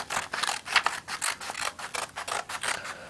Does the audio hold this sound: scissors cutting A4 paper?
yes